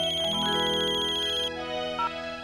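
A phone's electronic ringtone plays loud and steady for a couple of seconds, an incoming call with a repeating melodic tone and no one talking over it.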